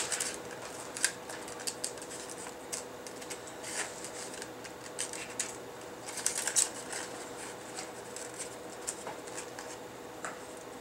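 Scissors snip through cardboard puzzle pieces in quiet, irregular cuts close by, with faint rustling between snips and no talking.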